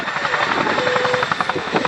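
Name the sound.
Chinook helicopter hovering and reversing at air show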